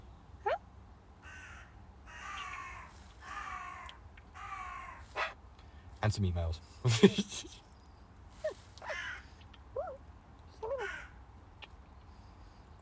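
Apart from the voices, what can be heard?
pet bird cawing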